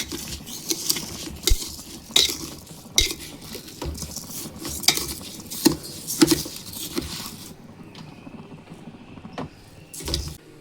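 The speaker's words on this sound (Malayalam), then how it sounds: "നമുക്ക് ജസ്റ്റ് ഒന്ന് ഇളക്കണം" Spoon stirring rice through a home-cooked beef biryani pot, with repeated scraping and clinking of metal against the pot in uneven bursts, close and moderately loud, quieting toward the end.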